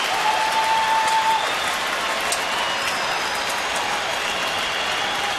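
Steady applause from a sizable baseball crowd at Minute Maid Park, a dense patter of many hands clapping at an even level throughout, heard at a distance like light rain.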